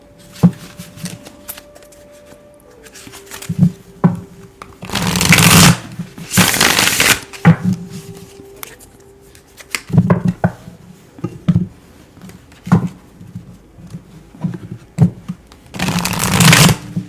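Tarot cards being shuffled in repeated riffling bursts with short pauses between, close and fairly loud, alone with no talking.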